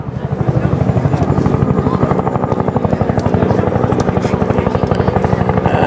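Helicopters arriving at a Vietnam reenactment, their rotors thumping in a loud, fast, steady beat that swells slightly as they draw near.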